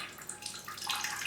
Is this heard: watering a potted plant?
yes